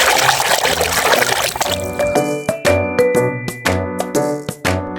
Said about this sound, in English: Let's splash it in the water.